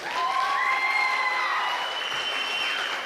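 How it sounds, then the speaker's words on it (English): Audience applause at a Labor Day outdoor show, a steady spread of clapping and crowd noise with whooping, whistle-like cheers gliding over it, sustained at moderate volume. "Give yourselves a round of applause."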